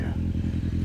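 A turbocharged Polaris RZR Pro R side-by-side engine runs close by with a deep, throbbing low rumble that pulses in quick rhythmic surges.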